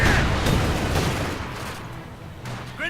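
Rapid, dense light machine gun fire crackles through a Company of Heroes 2 battle, loud and continuous with overlapping bursts and booms, fading slightly toward the end.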